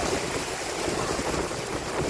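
A downpour of heavy rain in Pune roars dense and constant right at the microphone, with a wind-like rush and no voices over it.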